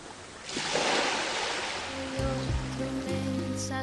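Pacific surf at Los Cabos, where the ocean meets the Sea of Cortez, rushes as a broad, loud wash of breaking waves, fading as tonal music rises over it in the second half.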